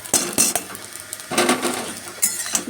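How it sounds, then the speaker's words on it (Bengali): Pointed gourd peels tossed with garlic and green chillies in a pan, metal utensil scraping and clinking in several quick bursts, close and fairly loud with no talking. "দিয়ে ভালো করে নাড়তে থাকবো ভালো করে নাড়তে থাকবো"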